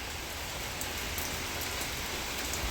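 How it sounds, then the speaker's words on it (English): Heavy rain from a severe thunderstorm with gusty winds drums steadily and loudly on surfaces nearby, a thick continuous wash of drops with no talking over it. "now it's really raining"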